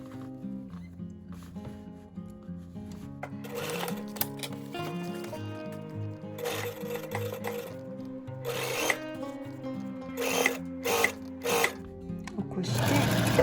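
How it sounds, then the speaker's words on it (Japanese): A sewing machine stitches the second side of a concealed zipper, running in steady mechanical bursts with short stops and restarts, close and moderately loud with faint handling sounds between runs. "次に反対側を縫います。"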